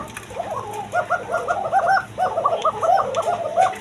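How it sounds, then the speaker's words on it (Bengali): Bashiraj pigeons cooing close by in a series of soft, rolling, repeated calls, several birds overlapping over quiet background noise, with no speech. "আরেক পেয়ার বাসিরাজ কবুতর আছে এটা কোয়ালিটি সম্পন্ন কবুতর"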